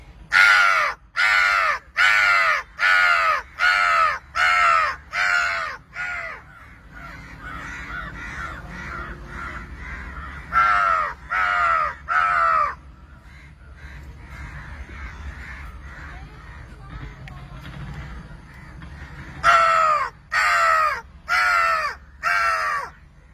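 Crows cawing in repeated harsh bursts, called in by a man imitating their caws to gather a flock in an open spot; loud runs of evenly spaced caws alternate with quieter scattered calls over steady background noise.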